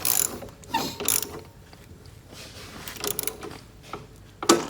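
A ratchet tightens the footpeg assembly bolt on a Venom X21RS motorcycle, giving several short bursts of close, crisp clicking separated by pauses.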